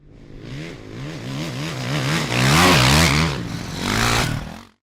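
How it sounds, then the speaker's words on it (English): A dirt bike engine revs hard and loud, its pitch climbing and dropping in repeated throttle blips and swelling to a high roaring peak near the end before cutting off. "Dirt bike,"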